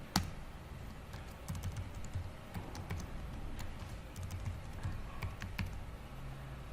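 Steady typing on a computer keyboard while entering account details during user setup, with quick irregular key clicks and occasional sharper strikes running throughout at close range, quiet and without any talk.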